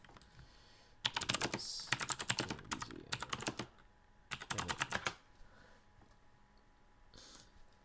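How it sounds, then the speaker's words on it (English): Quick clattering keystrokes on a computer keyboard arrive in two close bursts of rapid typing, separated by a short pause, with a single spoken word and a faint tap near the end. "Let me just type in"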